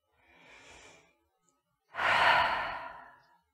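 Two breaths during a yin yoga breathing exercise: a soft, airy exhale, then after a pause a stronger, forceful exhale pushed from the diaphragm that fades out slowly.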